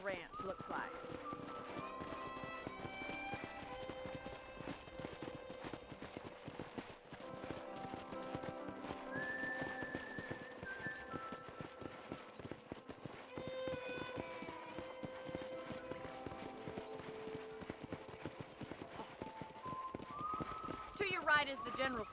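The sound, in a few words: horse hooves clip-clopping in a video game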